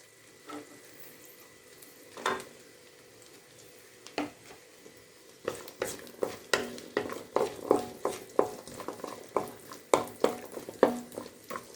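Shallots, green chillies and a little tamarind sauté lightly in a pan, heard as faint sizzling under regular scraping and stirring knocks that grow quicker and more rhythmic in the second half.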